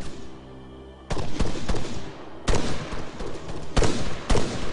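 Gunfire in a night firefight in the video game Arma 3: bursts of sharp rifle shots in several clusters, loud and close, with rolling echoes between volleys.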